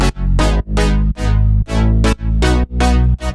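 Layered synth presets, including Future Bounce and Ibiza Plux patches in Vital, play a melodic summer-style line: bright sustained chords in loud rhythmic bursts of about eight stabs with short gaps, heard alone without talk.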